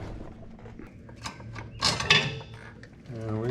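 An axle shaft on a Jeep JK Wrangler Unlimited scrapes and clicks as it slides out of the axle housing, with short metallic rattles and a grinding drag building midway, close and fairly quiet.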